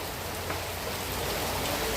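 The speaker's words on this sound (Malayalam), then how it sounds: "നല്ല മഴ പെയ്തുകൊണ്ടിരിക്കുക" Steady, dense rain pours down with a constant hiss, unbroken and fairly loud, with no voices.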